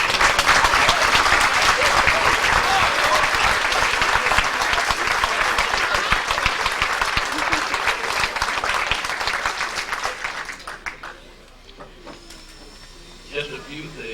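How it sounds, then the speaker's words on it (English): Banquet guests at a high school sports hall of fame dinner give a long, loud round of applause for the standing inductees, dense clapping that thins and fades near the end as a few sounds linger. "I'd like to have all of our inductees please stand so we can give you one more big round of applause"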